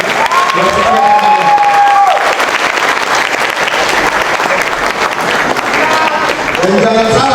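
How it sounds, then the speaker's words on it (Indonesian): Loud audience applause at a youth political rally, dense steady clapping with some cheering from the crowd, while a voice speaks over it near the start and end. "Kita berikan tepuk tangan."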